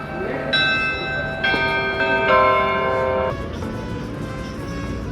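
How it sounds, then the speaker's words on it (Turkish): Church bells in Skopje, North Macedonia ring out with a long, resonant tolling that overlaps and sustains, heard from a moderate distance over a steady outdoor murmur. "Çanlar kimin için çalıyor diye."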